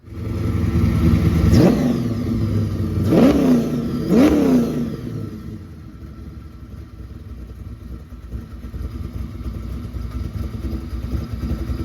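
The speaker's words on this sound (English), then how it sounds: "Just want to let you guys see the car cruising." A 1988 Chevrolet Caprice engine revs sharply three times in quick succession, pitch climbing and falling each time, then settles into a lower, steady running drone while cruising.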